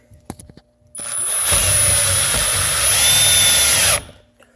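Milwaukee mid-torque impact wrench drives a 4-inch by 5/16 lag bolt, a loud continuous hammering whir lasting about three seconds after a few short clicks, then stopping abruptly.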